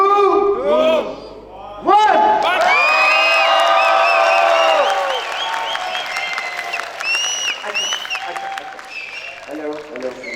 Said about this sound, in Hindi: आप तालियां बजाना चाहें, आप चीखना चाहें, चिल्लाना चाहें, जो भी करना चाहें आपने करना है।